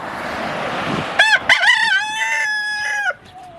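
A rooster crows loudly and close by, one long cock-a-doodle-doo with a brief sputter at the start, then quiet.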